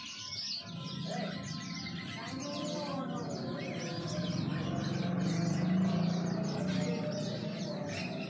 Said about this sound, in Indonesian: Untuk jalak kapas yang ada di depan saya ini berada di salah satu kios di Pasar Burung Beratang.